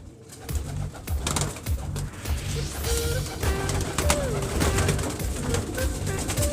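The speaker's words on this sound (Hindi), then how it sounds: "तो ये सारे नायाब किस्म के कबूतर हैं।" Rare breed pigeons coo repeatedly in a loft, soft rhythmic calls layered with chirps and general flock noise, steady and close throughout, with faint voices in the background.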